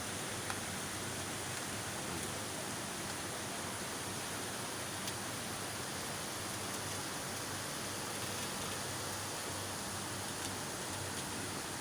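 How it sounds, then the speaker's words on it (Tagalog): Steady, dense hiss of heavy morning rain pouring without a break in Abu Dhabi, UAE, a constant even roar with no voices. "Lakas ng ulan, no?"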